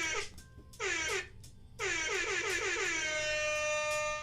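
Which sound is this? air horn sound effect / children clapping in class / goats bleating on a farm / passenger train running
air horn sound effect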